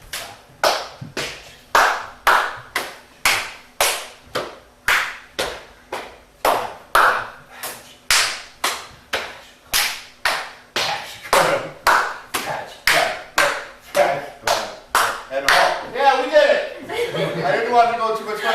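A group at a music theory workshop alternates hand claps and thigh pats in a steady rhythm, each beat a sharp, evenly spaced hit, with laughter and talk creeping in near the end.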